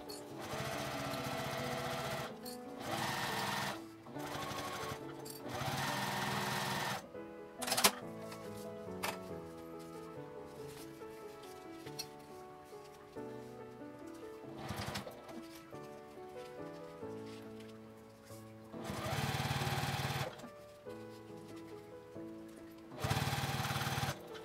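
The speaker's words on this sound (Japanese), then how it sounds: "表に返して端ミシンをかけます" Sewing machine topstitching the edge of a fabric wallet, with several bursts of rapid, even mechanical stitching separated by short pauses and quieter stretches of slower stitching.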